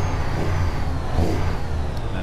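A Peterbilt 389 truck engine in American Truck Simulator revs steadily with a deep, rumbling growl, loud and close, holding a continuous throaty drone throughout.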